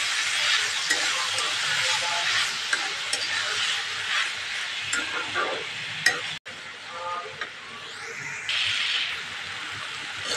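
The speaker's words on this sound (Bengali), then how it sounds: "এখন ভুট্টাটি দিয়ে দিব। এখন শুধু নাড়তে হবে।" Corn kernels fry with onions in a little oil in a pan, a continuous close sizzle broken by repeated scraping and stirring strokes of a spoon, with bursts of hissing as the mixture is turned.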